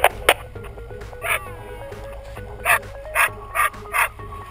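A ski patrol avalanche rescue dog barks at a snowy dig site, a handful of sharp barks spaced irregularly over a few seconds against steady background noise.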